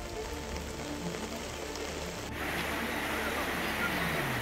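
Heavy rain pouring onto flooded town streets in Hapur, Uttar Pradesh, a loud continuous wash of water that grows denser partway through, with voices faintly present.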